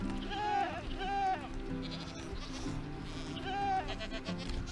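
Freshly spawned Minecraft goats bleating three times in quavering calls over a steady background music bed, moderately loud and close, with no talking.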